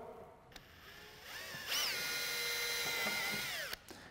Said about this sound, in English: we're going to go ahead and take a 5/32 drill bit